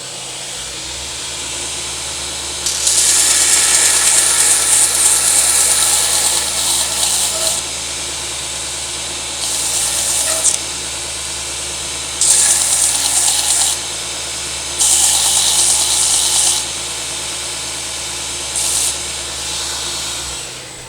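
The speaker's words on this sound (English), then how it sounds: "We're going to be grinding our pins nice and flat, and we're going to be doing that on the belt grinder vertically." A belt grinder used vertically flattens brass pins in a knife handle, giving loud hissing grinding bursts of a few seconds each, repeated several times over a constant motor drone.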